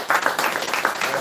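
A church congregation claps and applauds together in steady, brisk applause, moderately loud and close, briefly filling a service of praise.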